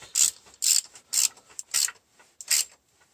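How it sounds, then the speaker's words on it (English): A ratchet wrench tightens a bolt while a car's coolant thermostat is being replaced, five or six loud rasping strokes in an even back-and-forth rhythm, close up with near silence between them. "Just tighten one bolt."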